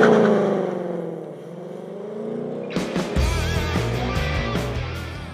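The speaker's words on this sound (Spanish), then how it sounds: "simplemente hay que acelerar a fondo, que las revoluciones se estabilicen y después soltar el embrague de golpe" A 2022 Ford Mustang Mach-E on a race circuit launches hard: a rising electric whine gives way to a loud, rough surge of tire and road noise as the car pulls away, with no voices.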